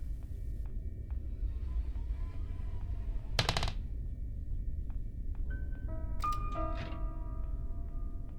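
Gunfire from the horror video game Granny Legacy: two short bursts of sharp shots, one midway and another near the end, over a steady droning game-ambience hum with faint tonal effects.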